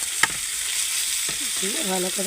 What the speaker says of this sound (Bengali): পেঁয়াজটাকে নাড়িয়ে নেবো